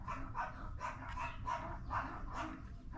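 Several dogs bark in a steady run of sharp, repeated barks at a moderate distance, with no talk over them.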